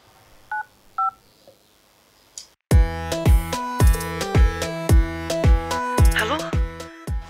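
A phone keypad sounds a quick string of dialing tones, two faint beeps first, then after a short gap a loud, steady run of about a dozen evenly spaced button tones close by, with no talking.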